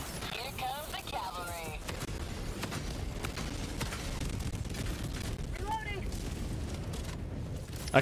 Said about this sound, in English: Did the cluster bomb destroy that?